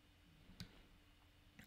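A few faint, sharp computer mouse right-clicks, widely spaced, near and quiet against a soft background hiss.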